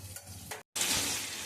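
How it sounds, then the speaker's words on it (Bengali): Shrimp frying in a pan with gourd, a steady close sizzle that cuts to near silence briefly and then returns louder and denser, with no voices. "এই চিংড়ি মাছটা ভাজা হচ্ছে।"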